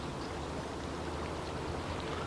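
Swirling, deep river water flows continuously at a fishing spot, a steady broadband rushing wash like a stream with no voices over it.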